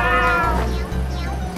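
A cartoon cat meows loudly in the video game Raise a Floppa, a long drawn-out close meow followed by a second, lower one.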